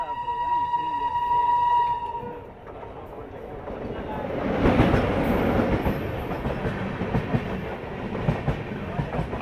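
An Akal Takht Express train runs on the Howrah–Bardhaman chord line, its steady rumble and wheel clatter swelling midway. A voice talks over the noise, and a high tone sounds briefly at the start.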